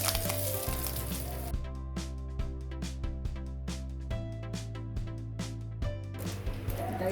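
Greens dropped into a hot pan with curry leaves while tempering for curd rice give a steady, crackling sizzle that holds for several seconds beneath faint tonal background music.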